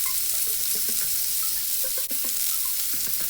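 Lamb chops sizzle steadily in a pan, a continuous close hiss and crackle with small pops and faint stirring or scraping clicks, no voices.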